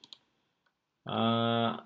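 A computer mouse double-clicking: two quick faint clicks near the start, followed by a brief pause and then a sustained voiced sound.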